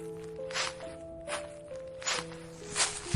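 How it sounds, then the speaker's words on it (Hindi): Soft, muffled footsteps creep up from behind, about four evenly spaced, cautious steps over sustained eerie musical tones. "उसे लगा जैसे उसके पीछे किसी की दबे पांव चलकर आने की आहट सुनाई देने लगी हो।"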